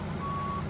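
A truck's reversing beeper in a trucking video game, a single clear, steady electronic tone heard once, sounding over a low engine hum.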